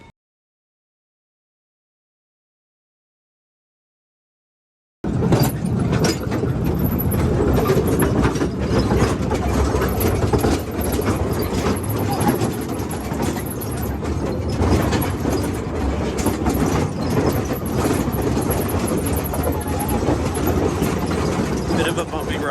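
A tour train carries riders through the Pioneer Tunnel coal mine, a loud, continuous rumble with rattling and clattering that begins abruptly after several seconds of silence and stays steady to the end.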